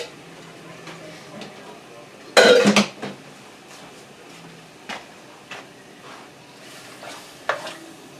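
A spoon stirs sweet and sour ham with pineapple in a pot, opening with a loud scraping clatter against the metal, then softer intermittent knocks and a faint simmer, with a voice speaking at times.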